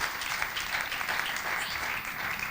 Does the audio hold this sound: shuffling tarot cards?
no